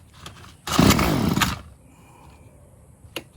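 A Murray Select MS 2560 gas chainsaw with its choke on and primer pumped fires up in one loud, rough burst that runs for under a second before dying back to quiet.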